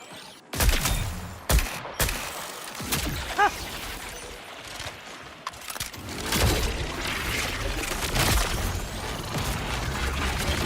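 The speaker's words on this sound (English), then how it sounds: "this is sniper rifle" Sharp, isolated sniper rifle shots in a video game, a few loud cracks spaced apart early on, followed by busier, rumbling gunfire and mechanical clatter.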